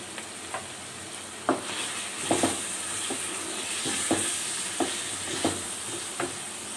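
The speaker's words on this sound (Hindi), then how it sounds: "अब हम इसमें तमाम इंग्रेडिएंट्स ऐड करेंगे, मसाला जात, और अच्छी तरह से मिक्स करेंगे।" Chicken and spices being stirred in a pot for a chicken potato curry: repeated scraping stirs with a steady sizzle and hiss underneath, close and alone.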